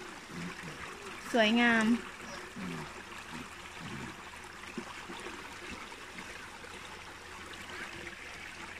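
A small forest stream in Ireland flows with a soft, continuous trickle in the background while a person speaks over it at close range.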